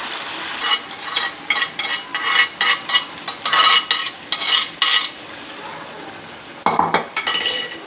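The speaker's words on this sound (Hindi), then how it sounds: "अब इसके अंदर जो मैंने आधे घंटे से ये मैंने रखी है कलेजी मैरिनेट होने के लिए, ये सारी मसाले समेत डाल दूँगी" Marinated goat liver with its spices goes into a pan of masala and is stirred, giving bursts of sizzling and scraping with occasional utensil clinks, loud and close, with no talking.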